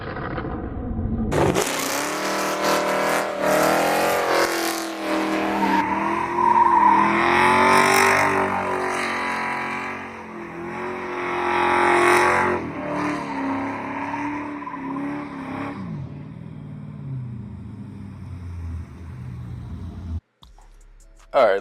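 A manual rear-wheel-drive car doing a burnout: the engine roars and revs hard for a long sustained stretch, loud and close, with rising and falling pitch and a harsh screech mixed in, then cuts off abruptly near the end.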